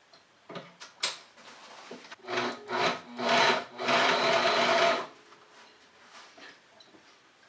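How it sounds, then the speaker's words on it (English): A Sailrite Ultrafeed LS1 walking-foot machine punching through many layers of 1000 denier cordura and webbing: slow, heavy, rhythmic thumping stitches building into a continuous grinding run, then stopping, close and clear. "So this is 1, 2, 3, 4, 6 or 8 layers of 1000 denier cordura on the seam that I'm sewing here"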